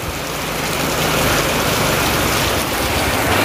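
Heavy rain pouring down outdoors at a work site near a tower during a thunderstorm, a loud, steady, dense hiss with no talking.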